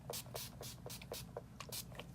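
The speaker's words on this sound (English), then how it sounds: "we're going to spray this with finishing spray" Finishing spray misted onto a made-up face in a series of about eight short, close hissing bursts in a steady rhythm, with no talk.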